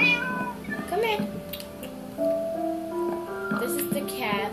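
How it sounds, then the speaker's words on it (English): A domestic cat meows repeatedly indoors, several short rising calls close by, with a person speaking quietly in the background. "This is my cat."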